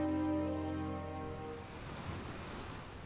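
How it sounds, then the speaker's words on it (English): Ocean waves wash onto a sandy shore in a steady, soft broadband rush, moderately faint and continuous, with a fading tonal drone at the start and no voices. "the sound of the waves filled the silence between them"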